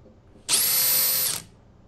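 A power drill on an e-bike project whirs up sharply, runs at a steady high-pitched whine for about a second, then cuts off, with quiet room noise around it.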